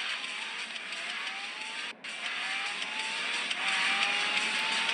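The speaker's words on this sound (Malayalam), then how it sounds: "ഇതാ പോണു മെക്ലാരൻ" A McLaren supercar in the racing video game Forza Horizon 4 drives past with a steady engine drone and rising gear-change pitch sweeps, fairly loud and continuous, with one brief dropout midway.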